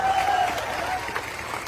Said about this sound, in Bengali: ওনার জন্য একটা হাততালি আমি আশা করি